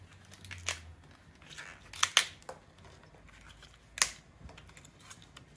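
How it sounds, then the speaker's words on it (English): A knife cuts the stalk off a globe artichoke so it sits flat, giving a few sharp, close crunching snips and cuts at irregular intervals, the strongest two in quick succession, then one more. "And then we cut off the stalk so that it sits flat."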